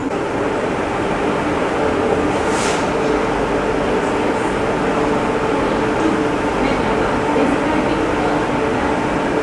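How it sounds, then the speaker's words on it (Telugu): The Shatabdi Express 12025, running from Pune to Hyderabad, gives off a loud, steady traction-motor drone. It is a dense, unbroken roar with rail rumble that holds evenly from start to end. "ఆ ట్రాక్షన్ సౌండ్"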